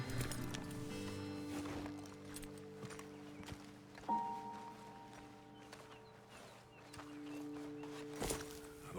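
Horses in the video game Red Dead Redemption 2 stand near a roadside ledge, with soft hoof clops and shuffling steps and occasional snorts over a steady ambient bed of music and game atmosphere.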